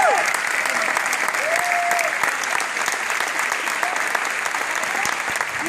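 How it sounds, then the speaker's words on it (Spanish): An audience at a Copycat stage show breaks into loud, sustained applause, dense clapping filling the room with a few whistles rising above it throughout. "Un aplauso grande."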